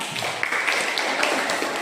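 A classroom group claps together after a team's score is announced, a steady, fairly soft rattle of many hands with a few sharper individual claps standing out.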